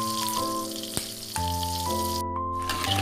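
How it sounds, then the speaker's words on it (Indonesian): Peanuts frying in oil in a pan over a medium flame on a home stove, a steady close sizzle with small crackles and pops. "Nah ini saya mulai goreng kacang ya"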